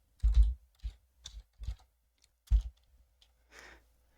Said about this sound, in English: So if we just type PKG